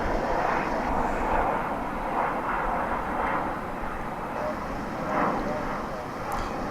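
An American Airlines flight departs DFW Airport for Guadalajara, its jet engines a broad, steady rumbling roar heard from a distance and swelling slightly as the plane takes off.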